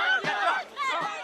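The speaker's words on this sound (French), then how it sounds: "Dehors, le service d'ordre tente de contenir la foule qui essaie d'entrer." A protest crowd clashes with security while trying to force its way into an amphitheatre, with loud, agitated shouting voices rising in two bursts, close and chaotic.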